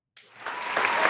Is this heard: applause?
yes